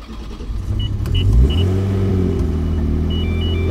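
Engine of a supercharged 600 hp Nissan 350Z Nismo starting up and revving inside the car, a loud deep rumble that swells sharply then settles into a steady throaty idle, with no talk.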